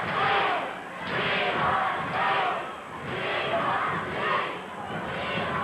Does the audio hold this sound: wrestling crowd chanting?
yes